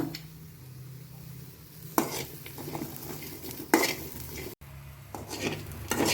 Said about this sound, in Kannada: ಈಗ ನೋಡ್ರಿ ನಾ ಈರುಳ್ಳಿ ಹುರ್ಕೋತೀನಿ ಇದಕ್ಕೆ ಎಣ್ಣೆ ಹಾಕೋದಿಲ್ಲ